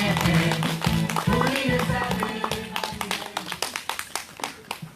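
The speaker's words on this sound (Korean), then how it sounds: "큰 박수로 앞으로 모시겠습니다" A crowd at a Seongju Soseong-ri Wednesday rally applauds to welcome a speaker forward, the claps loud and close, starting over a voice and tonal background, then thinning into distinct, rhythmic claps.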